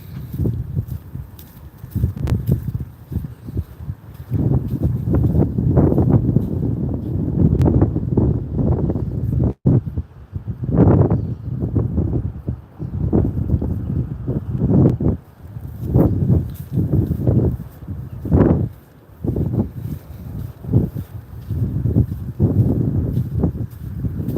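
Gusty wind on Pensacola Beach buffets the microphone in loud, uneven rumbles, with footsteps crunching through sand beneath it.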